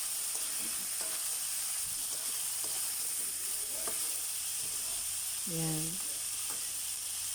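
Squash (kalabasa) for pinakbet sautéing in a pan, a steady, fairly loud sizzle with occasional utensil taps and stirring scrapes, and a short spoken word near the end.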